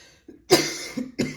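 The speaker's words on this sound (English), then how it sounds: "I haven't coughed all for so long now." Two sharp coughs from a nearby person, separated by a short pause, with softer throat sounds in between.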